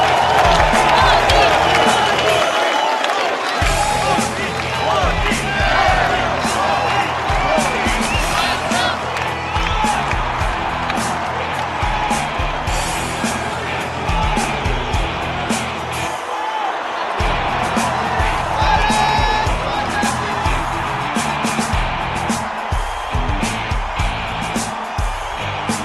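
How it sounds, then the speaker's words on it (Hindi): An audience cheers and claps at a crowded Indian gathering, a dense roar of clapping and whoops that stays loud for nearly half a minute, with voices mixed in. "खड़े होके हाथ उठा के ताली बजा के समर्थन"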